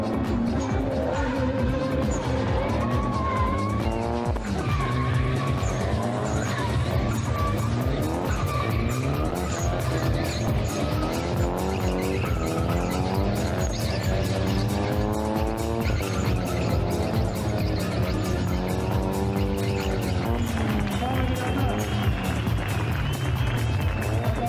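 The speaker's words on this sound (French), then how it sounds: "Le rugissement des moteurs, la fumée que génèrent les pneus" Drift cars at a tuning drift show in Athens roar continuously with revving engines and long squealing tire slides. The sound is loud and sustained for the whole stretch, with engine pitch rising and falling through each slide.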